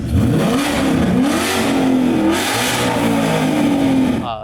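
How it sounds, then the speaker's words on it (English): A Ford Mustang Dark Horse engine with Stainless Works long tube headers revs hard and loud, its deep exhaust note rising and falling in pitch through several pulls, close by and uninterrupted. "Car sounds absolutely incredible with the new Stainless Works long tube headers."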